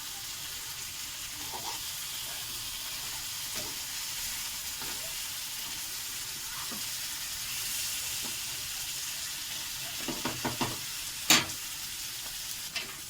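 Fish frying in a pan with a steady, quiet sizzle, broken by soft scrapes and clinks as the pieces are turned one at a time, with a sharper clatter near the end.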